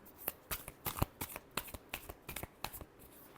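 Tarot cards are shuffled close by in a series of quick, papery flicks and riffles, with an irregular rhythm and a fairly quiet level.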